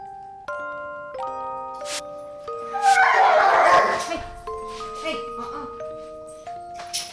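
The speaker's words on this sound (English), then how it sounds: "my dogs just had a little fight." Two pet dogs briefly scuffle with a burst of snarling and yipping barks. Tinkling music-box game music plays throughout.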